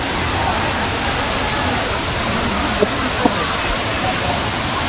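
Water rushing at the Savdav waterfall, a loud continuous roar filling the whole clip, with a couple of faint clicks and voices from a crowd of visitors nearby.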